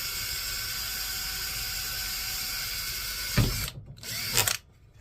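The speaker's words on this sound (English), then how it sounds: "I'm going to drill a little hole through mine." A power drill whirs steadily at close range for a few seconds, drilling a tiny hole in a mesh wreath, then stops with a couple of short bursts and clicks before falling quiet.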